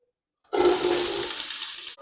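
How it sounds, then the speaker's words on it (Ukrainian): Vegetables dropped into a pot of hot vegetable oil set off a sudden loud hiss that holds for about a second and a half, then cuts off abruptly, with no talking. "Беру рослинну олійку, наливаю у кастрюльку і тепер викладаю овочі"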